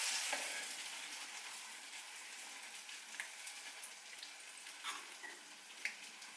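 Pancake batter sweetened with maple syrup fries in a pan with a faint, continuous sizzle, broken by a few soft pops and crackles and no voices.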